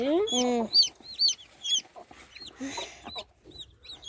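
Small chicks cheep repeatedly in high, thin chirps, close by, with a clucking hen and a voice briefly underneath.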